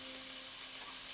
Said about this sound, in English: some chicken and I'm just gonna brown it up first